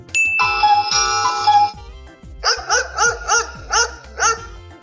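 A dog barks about six times in a steady rhythm, loud and close, following a sustained electronic chime tone, in a children's classroom quiz on animal sounds.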